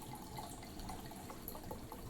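Red Merlot wine pours into a glass in a short, steady liquid trickle with soft splashing, close and quiet, with no talking.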